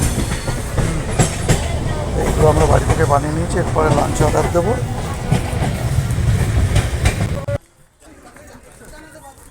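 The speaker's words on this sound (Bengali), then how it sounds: "ট্রেন চলেছে দুরন্ত গতিতে, একটা করে স্টেশনে থামছে, আবার নিজের গতিতে চলছে আমাদের এই ট্রেন।" A long-distance passenger express from Howrah to Jammu rumbles steadily along the rails with clattering wheel rhythm, heard from inside the carriage under close conversation, before the noise suddenly drops away near the end.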